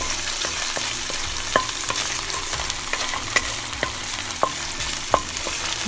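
Dried loitta fish frying with pumpkin curry in a pan, giving a steady close sizzle broken by regular scraping taps of stirring; no voices.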